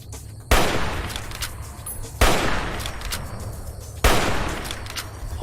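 Three loud gunshots in Fallout DUST crack out about every two seconds. Each one hits sharply and leaves a long echoing decay, with no talk between them.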